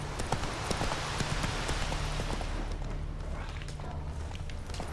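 Horse hooves clip-clop steadily in The Witcher 3 video game, a continuous near walking rhythm over a dense ambient bed with no talk.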